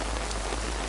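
Steady rain falls at an outdoor jazz festival, a dense continuous hiss of drops close by with no pauses.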